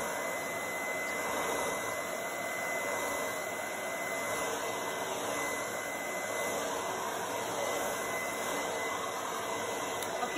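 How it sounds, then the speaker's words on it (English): A blow dryer on its low, cool setting runs steadily and close by, a constant broadband whoosh pushing wet paint across another layer of paint, with no talking. "So I'll go on low and cool. And just blow that paint up over the other paint"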